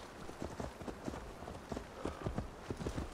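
In Assassin's Creed Valhalla, a horse's hooves clip-clop in a quick, uneven rhythm of soft thuds, faint and somewhat distant, over a low game ambience.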